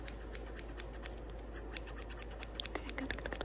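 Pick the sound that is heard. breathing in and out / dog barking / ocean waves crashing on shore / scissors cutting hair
scissors cutting hair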